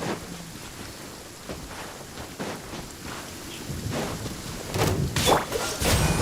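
Steady rain falls in the Genshin Impact game world, a broad hiss with scattered soft thuds that grows louder toward the end.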